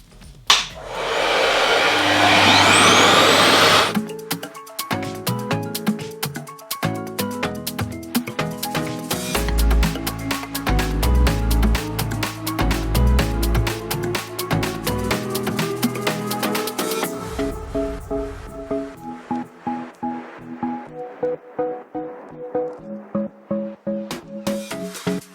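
A RevAir suction hair dryer roars loudly at first, then cuts to steady running with rapid clicking pulses and a shifting whine, ending in a lower, intermittent hum close by.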